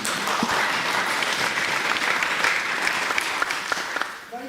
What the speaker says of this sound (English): big round of applause to all the presenters